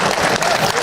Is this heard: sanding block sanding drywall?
no